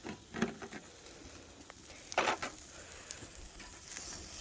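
Thick steak searing in a pan toward rare, a faint close sizzle with a few brief bursts of crackling spatter, no voice.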